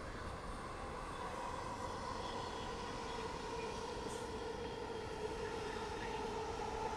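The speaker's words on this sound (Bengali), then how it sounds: "ট্রেন যাচ্ছে।" A train passes through Paribag in Dhaka near Shahbagh, heard from a tall building's rooftop as a steady, faint, distant rumble that holds evenly throughout, with a thin whine of city air around it.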